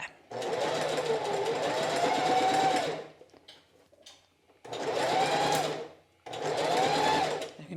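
A sewing machine stitches a curved seam in fabric, running in three loud, close bursts of steady whirring with brief pauses between them and a voice faintly underneath.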